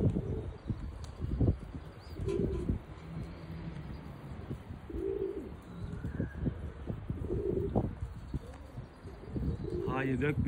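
Dolapçı pigeons coo repeatedly in short low bursts at a show, close by, with people talking at intervals and some outdoor rustle in the background.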